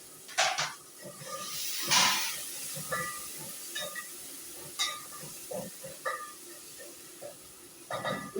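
Chopped green pepper going into a cooking pot while mukimo is made in a home kitchen, heard as a hissing sizzle with scattered clinks and scrapes of utensils against the pot.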